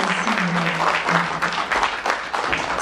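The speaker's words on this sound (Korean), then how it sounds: "다시 한 번 더 박수 부탁드립니다" An audience applauds at a regular concert in Jeju, with dense, sustained clapping filling the hall and a brief voice rising above the clapping near the start.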